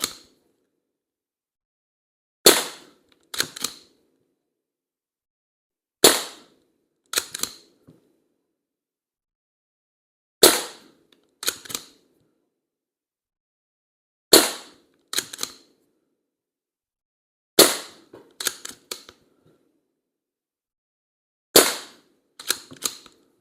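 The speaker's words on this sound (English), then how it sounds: "last shot holds the bolt open, which is always nice" Sharp shots from an SMK Victory CP2 .177 CO2 air pistol, fired in spaced pairs and triplets with the clack of its bolt action cycling between them, loud and close with no talking.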